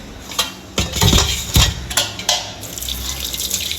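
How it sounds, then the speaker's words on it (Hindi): Dishes and utensils being washed in a home kitchen: metal pots and cutlery clank and clatter loudly and irregularly at close range, with running water between the knocks and no talk. "पहले इन बर्तनों को धो के रख दूँ"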